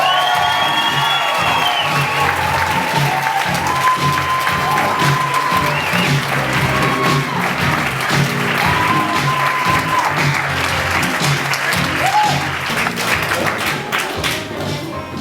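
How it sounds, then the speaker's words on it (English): Loud sustained applause and cheering from a crowd at a community pride event in Marion, Ohio, with scattered whoops and shouts over steady clapping throughout. "So let's have a huge cheer for Mr."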